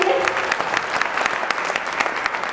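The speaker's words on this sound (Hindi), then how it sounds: "जोरदार तालियां हो जाएंगी" Lively applause from a seated audience at a training session, dense rapid clapping that carries steadily and close for the whole stretch.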